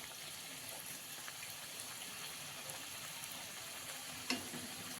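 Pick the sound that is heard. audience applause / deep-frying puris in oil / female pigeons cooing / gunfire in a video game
deep-frying puris in oil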